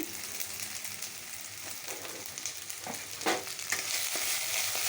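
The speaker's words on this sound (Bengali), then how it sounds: "লাল লাল করে মশলাটা ভাজা হয়ে যাবে।" Spice paste frying in a pan makes a close, continuous sizzle with scraping stirring strokes and a few louder bursts toward the end.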